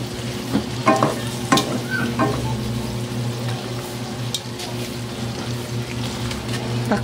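String beans for Bicol Express are stirred as they fry in a pan, with a few scraping strokes at first, then a continuous close sizzle and low bubbling.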